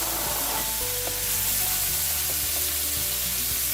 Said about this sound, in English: So all I'm going to do is add the potatoes onto the pan.